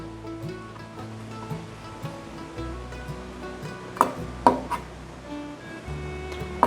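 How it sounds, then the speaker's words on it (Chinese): A knife slicing fruit in half on a cutting board, several distinct chopping knocks near the end, close and clear over faint kitchen background hum. "把荆棘切一半"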